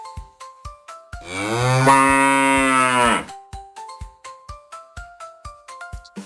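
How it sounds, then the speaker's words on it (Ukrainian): A cow gives one long, loud, close moo lasting about two seconds, set between bright, evenly repeated plucked musical notes playing before and after it. "Це корова."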